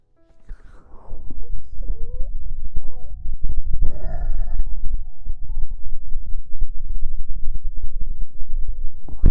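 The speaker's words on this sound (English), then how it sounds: "I need a burp." A long, loud, rumbling burp drawn out over several seconds, close to the microphone, with no talking.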